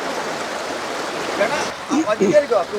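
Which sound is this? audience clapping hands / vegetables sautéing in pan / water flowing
water flowing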